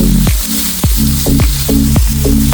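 Chopped onions sauté in a pan for a tuna dry fry, a loud close sizzle with repeated scraping stirs that clack against the pan in an uneven rhythm, no talking.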